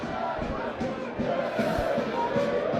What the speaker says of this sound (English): Weymouth fans finding some voice now to try and cheer on their team.